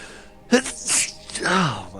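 A single sharp sneeze bursts out close to the microphone at a tabletop role-playing game session, followed by a brief breathy vocal sound.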